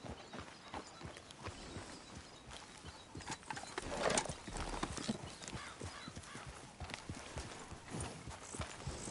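Steady clip-clop of horse hooves trotting at a brisk, even rhythm in the video game Red Dead Redemption 2, close and fairly loud, with faint background ambience.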